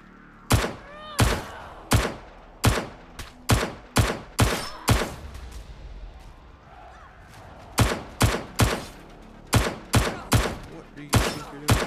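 A gun in the VR game Blade and Sorcery Nomad fires a long string of loud, sharp shots in quick, evenly spaced bursts, pausing briefly midway before resuming at the same steady pace.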